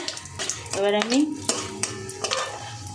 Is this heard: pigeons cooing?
no